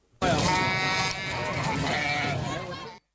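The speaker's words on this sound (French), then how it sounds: "ils ont l'embarras du choix tant les sites de vente de moutons pullulent dans la capitale" A sheep at a livestock market in Bamako lets out one loud, close, drawn-out bleat that wavers for about three seconds.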